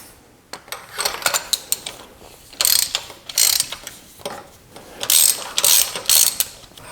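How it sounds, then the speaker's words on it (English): Ratchet wrench with a magnetic swivel spark plug socket loosening a spark plug on a Chrysler 3.6L Pentastar V6 engine: clear, close bursts of rapid clicking ratchet strokes, several short runs separated by brief pauses, with no talk. "We'll go ahead and remove the spark plug."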